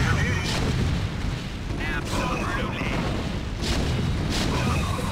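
Tank cannons boom repeatedly in a StarCraft: Remastered co-op battle, heavy artillery-like blasts overlapping with other combat effects, while players talk over the noise.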